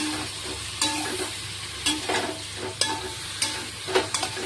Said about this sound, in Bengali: আর চলো ভালো করে এটাও কষিয়ে নিই, আর এতে মশলাগুলো দিয়ে নিই।